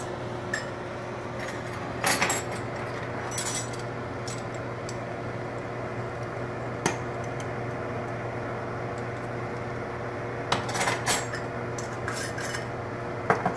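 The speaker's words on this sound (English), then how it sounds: "stir that all in." Greens and thyme being stirred in a pot, heard as scattered metallic scrapes and clinks of a utensil against the pot over a steady low hum, with no talk.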